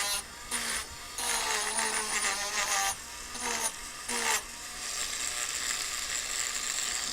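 A metal spoon's edge being deburred with a hand tool, giving repeated bursts of gritty scraping and rasping, fairly loud and close, with short pauses between strokes and no talking.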